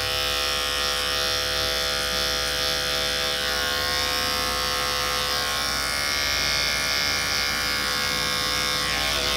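Electric hair clippers fitted with a number two blade hum in a constant, loud, close buzz while cutting hair during a skin taper fade, steady throughout without pause or voices.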